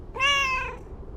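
Mortimer, a cat in the video game Lake, gives a single clear meow, short and bright, heard close and alone against quiet background.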